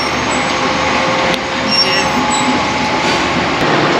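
Interior of a metro train riding through Teresina, a steady rumbling rail roar with hiss and faint squeals, loud and continuous with no talk.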